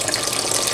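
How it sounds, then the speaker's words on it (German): Water drains from a kitchen pot or sink during tomato soup preparation, a brief, steady close-up rush and gurgle of flowing liquid. "Jetzt muss das Wasser abfließen"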